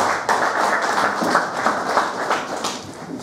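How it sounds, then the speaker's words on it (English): An audience at a book launch in Malawi claps for panelists returning to their seats, a dense, steady applause of many hands that fills the room throughout without a break. "Let us clap hands for them as they are resuming their seats."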